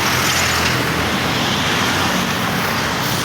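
Steady roar of vehicles passing along Aguinaldo Highway, heard from the roadside as cars approach, a dense continuous wash of traffic noise with no break.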